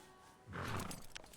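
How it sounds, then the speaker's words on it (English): An elk call in the Red Dead Redemption video game, a Rocky Mountain cow elk giving one rough, roaring bellow that rises after a quiet start and carries fairly loud through the second half. "That sounds like an elk, to be honest."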